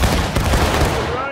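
Musket volley fire in a Civil War-style video game sounds as a dense burst of overlapping shots with a lingering rumble. It lasts just over a second and has no talk.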